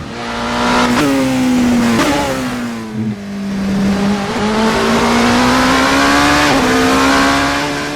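A hypercar engine in Assetto Corsa revs loud and close, climbing in pitch through each gear, with sharp dips at the upshifts and a brief lift-off midway before it pulls again.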